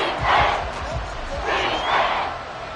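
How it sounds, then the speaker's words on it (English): A football stadium crowd roars in two big swells during a Week 2 game as a team faces third and goal, a broad wash of voices with no single shout standing out. "This crowd doing all they can."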